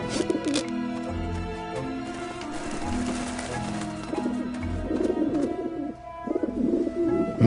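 Pigeons coo in the video game Grim Fandango Remastered, their low repeated calls running steadily over a rainy, musical game ambience.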